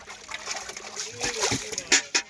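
A big fish, a silver brigade fish, hauled from the water by two men at a fish market, giving splashes and sloshing with a couple of sharp splatters near the end, heard under talking.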